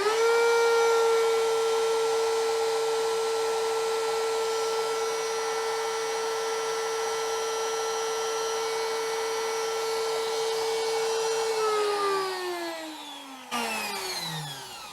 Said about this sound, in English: So now I know how fast my router is going on 1, 2, 3, 4, 5, and 6.